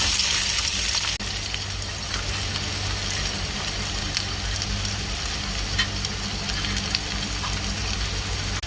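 Chopped onions sizzle in hot oil for Indian egg bhurji, a loud, continuous frying hiss with occasional clinks and scrapes from stirring.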